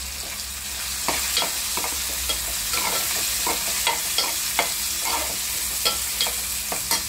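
Red turmeric and asafoetida powder sizzling in hot oil for a spiced bean dish, with a steady crackling hiss broken by repeated short spatters and spoon scrapes.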